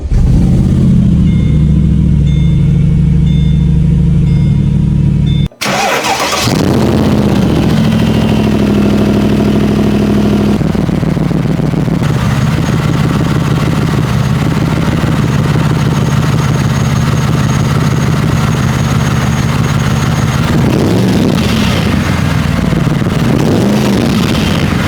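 A Mercedes-Benz SLR McLaren supercar engine cranks and fires with a loud roar, then settles into a steady, deep, rumbling idle with slight fluctuations.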